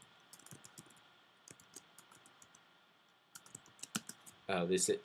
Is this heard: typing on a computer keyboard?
yes